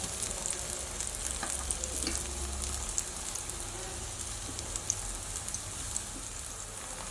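Plantain slices frying in ghee in a pan, a steady close sizzle and crackle with light stirring scrapes, continuous throughout with no talk.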